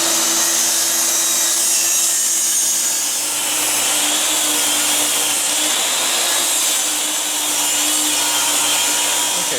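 Power saw cutting wooden side rails for chicken coop windows, a loud steady whine of the blade running continuously through the cut with no pauses, close up and alone without talk.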